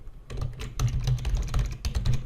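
Rapid clattering keystrokes on a computer keyboard as an email address is typed in, close and steady with brief pauses between bursts, no voices.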